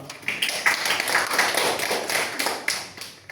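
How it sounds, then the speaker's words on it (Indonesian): A small group of students claps in a classroom for a classmate, a short, light patter of hands at moderate distance with an uneven rhythm, lasting a few seconds and fading at the end. "Tepuk tangan dong."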